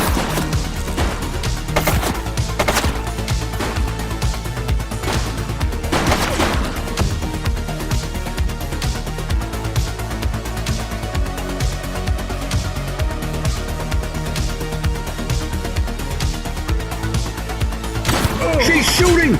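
Bursts of gunfire from a shooting suspect in the police game The Precinct, sharp cracks repeated over a steady background of game noise and music, with voices talking at times.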